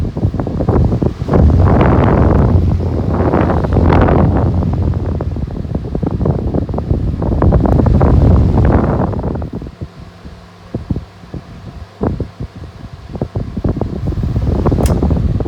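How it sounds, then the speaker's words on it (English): An all-metal electric fan running on high speed, a loud, close, whooshing rush of air with buffeting wind gusts over the microphone, then easing into a softer steady hum with light clicks. "Let's get on running the fan. Here's high. This thing is very powerful."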